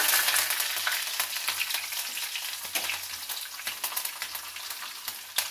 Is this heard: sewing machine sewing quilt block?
no